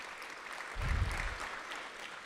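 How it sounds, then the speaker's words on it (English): Brief applause from an audience of alumni, friends, students and faculty at a school's 75th anniversary celebration, a soft burst of clapping that swells and fades within about a second. "Y'all give yourselves a round of applause."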